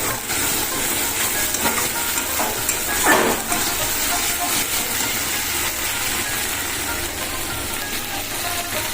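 Masala for a chitol fish tel jhal curry sautés with a little sugar in a pan, giving a continuous loud sizzle and hiss with occasional scraping from stirring.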